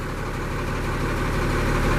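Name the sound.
2011 Kenworth T370 truck engine idling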